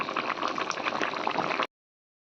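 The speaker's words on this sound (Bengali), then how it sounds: "ঝোল ফুটে গেছে" A pot of bata fish curry bubbles at a steady rolling boil, close and continuous, then stops abruptly.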